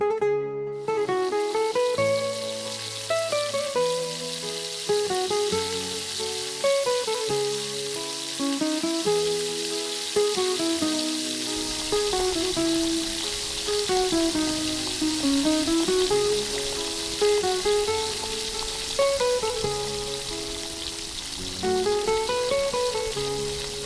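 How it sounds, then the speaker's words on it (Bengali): Marinated chicken lollipops deep frying in hot oil give a steady, bright sizzle that runs the whole time beneath prominent melodic music. "তেল গরম করে সবগুলো ম্যারিনেট করা চিকেন ললিপপগুলো ডিপ ফ্রাই করে নিন।"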